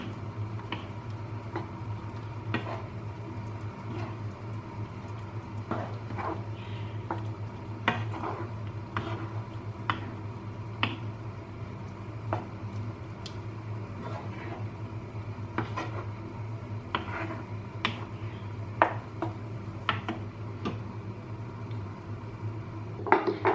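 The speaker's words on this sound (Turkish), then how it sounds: "Karıştırıyorum." Sausages with a teaspoon of thyme stirred in a pan, a spoon tapping and scraping the metal in irregular clinks over a steady low background hum, no talking.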